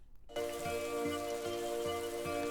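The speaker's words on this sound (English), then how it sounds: "let's see how the rain's sounding" Rain sound effect layered into a song mix, a steady hiss of falling rain running under sustained musical tones and a repeating low pulse, starting abruptly after a brief quiet moment.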